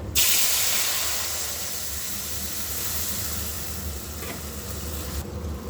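Tamarind pulp dropped into hot spiced oil bursts into a loud, close hiss of sizzle and steam that stays strong for several seconds and slowly eases, then cuts off abruptly.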